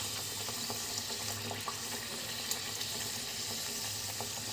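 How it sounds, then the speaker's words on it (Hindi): Puris fry in hot oil, giving a steady, soft crackling sizzle with small pops scattered throughout at a fairly low level. "इसको दोनों साइड से हम अच्छी तरीके से फ्राई कर लेंगे।"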